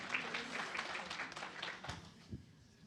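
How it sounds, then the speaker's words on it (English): Faint, scattered clapping from a small crowd at a keynote session of a writers' conference, sounding distant and thin, fading out toward the end. "we can take a round of applause"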